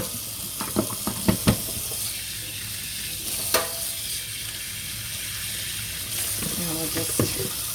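Camel and silk fiber rinsed in water, with a continuous splashy hiss of running or sloshing water and a few soft knocks and swooshes, fairly close.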